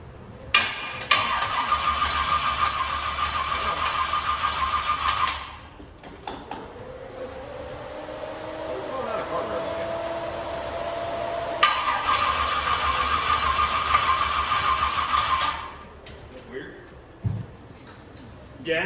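A car fitted with an ATM carburetor cranks but fails to start, two long loud buzzing cranking bursts separated by a quieter stretch, with brief clanks near the end.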